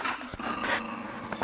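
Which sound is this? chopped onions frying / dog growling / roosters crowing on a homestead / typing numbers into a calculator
dog growling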